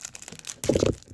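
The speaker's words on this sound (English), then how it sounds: "finally got a pack open without the scissors" Brief rustle and sharp tear as a Topps Road to WrestleMania 2016 card pack wrapper is ripped open by hand, a short crinkly burst after soft handling noise, close and fairly loud.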